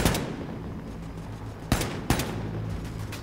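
Enemy gunfire in Wolfenstein II: The New Colossus, a steady rattle of automatic shots over game background noise, broken by two sharp, louder cracks near the end.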